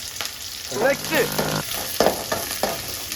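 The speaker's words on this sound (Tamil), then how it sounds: "சின்ன வெங்காயம் மற்றும் மிளகாய் சேர்த்துக்கலாம் போட்டாச்சு நன்கு வதக்கி விடவும்" Shallots and green chilies sautéing in a pan for a village-style fish curry, a loud continuous sizzle broken by stirring clatter and spatula scrapes, with brief voice-like sounds mixed in.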